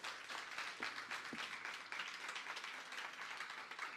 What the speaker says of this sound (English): Another round of applause for these awesome students.